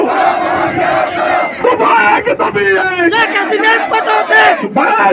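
A large protest crowd chants slogans together in loud, rhythmic unison, voices rising and falling in repeated shouted phrases, with a prominent lead voice among the massed shouting.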